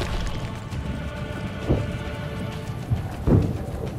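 Horse hooves in the video game Assassin's Creed: Brotherhood, a few distinct thuds spaced about a second apart over a steady rumbling, rain-like background hiss.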